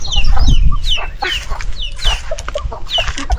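Native egg-laying hens on a farm cluck and squawk close by, a steady busy run of overlapping calls with no one talking.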